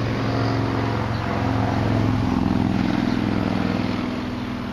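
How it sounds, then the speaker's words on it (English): A motorcycle passes close by on a road outside a home garden, its loud engine drone swelling and holding steady before easing off slightly, with no talk over it. "Gotta wait for the motorcycle."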